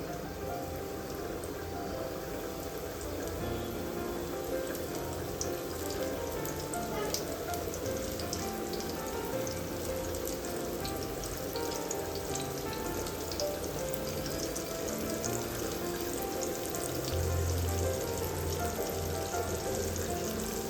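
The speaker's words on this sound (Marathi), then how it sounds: "आता आपलं तेल गरम झाले. आपण एक एक करून कोळंबी त्याच्यामध्ये सोडून घेऊया." Prawns frying in hot oil in a pan: a dense, continuous crackling sizzle, steady and close for the whole stretch, with no voices over it.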